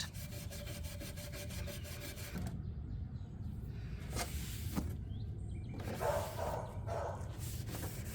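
Old lacquer finish scraped off a wooden mid-century Kent Coffey dresser after stripper has soaked in, heard as steady rasping strokes up close, pausing briefly before resuming.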